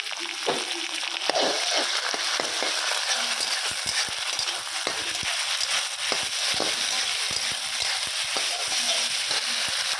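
A spice paste for fish curry sizzles and fries steadily in a pan, a continuous hissing crackle punctuated by scattered pops and the scrape of stirring, fairly close and with no talking.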